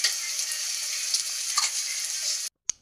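Onions and tomatoes sizzle steadily in a pan while being stirred for a crab and eggplant curry, a continuous close frying hiss with faint scraping, ending in a brief pause and a single sharp clink.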